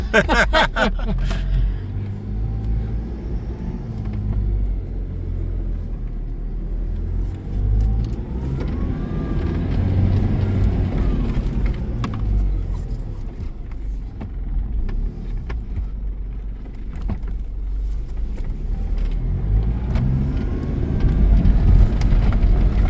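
A car labors across Moroccan desert sand near Merzouga, its engine droning and rising as the wheels slip, a steady low rumble heard from inside with occasional bumps and rattles.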